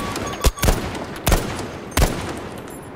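Battlefield V machine gun fire on the Arras Breakthrough map comes as three short, loud, close bursts, each a rapid cluster of shots roughly half a second to a second apart.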